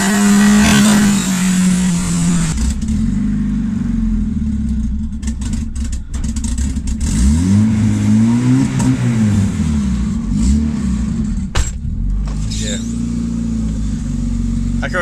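Turbo D16 Honda Civic engine held on launch control, a loud buzzing drone that holds steady, then sweeps up and down in pitch through the middle before settling, with talk partly over it.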